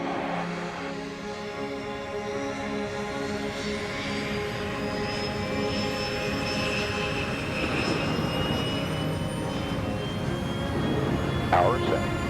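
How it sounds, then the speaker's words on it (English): NetJets business jet engines spool up for takeoff, a loud steady roar with rising tonal whine that holds throughout, while radio voices and pilot talk sound over it. "Clear for takeoff. Power coming up."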